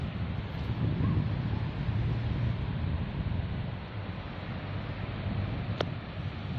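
Wind at a Thai beach on a mid-afternoon trip to the sea, blowing steadily and fairly faint, a broad rushing hiss that buffets the microphone, with a soft murmur of surf underneath and one brief click near the end.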